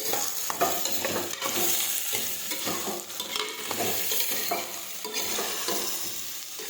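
Bottle gourd sautéing in a pan, a continuous loud sizzle with constant rhythmic scraping and stirring strokes of a spatula close by, no one speaking.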